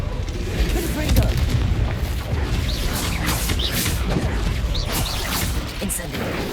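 Explosive Confringo spell blasts from Hogwarts Legacy hit as a steady barrage of booms and crashes over dense battle noise, with a voice shouting through the mix.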